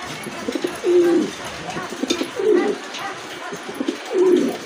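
A female pigeon, one of a pair kept for sale, coos three times at regular intervals, each a low throaty rolling call, close by, with faint background sounds between calls.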